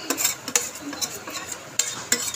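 Coconut and onion paste sautéed in oil, a spoon scraping and stirring against the pan with occasional clinks over a faint sizzle, close up, no talking.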